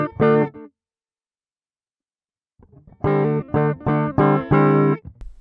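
A Line 6 Variax modelling guitar set to a Les Paul tone plays a single distorted chord that rings and cuts off, then after a pause several sharp chord stabs follow in a choppy rhythm.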